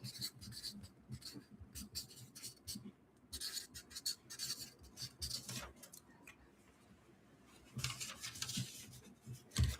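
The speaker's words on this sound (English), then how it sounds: "Let me just write this down for you to read" A pen or pencil scratches across paper in short, uneven strokes, faint and close, with brief pauses between bursts of writing and no talking.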